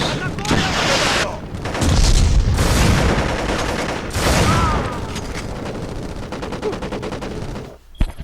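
Repeated loud shotgun blasts echo in the first-person shooter BLACK, several booming shots in quick bursts followed by quieter combat ambience and clicks, with radio-style voice chatter mixed in.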